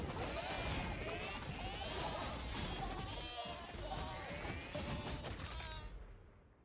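Goats bleat repeatedly in a busy video game scene, the wavering cries layered over dense, loud game noise and impacts that run continuously before cutting off abruptly at the end.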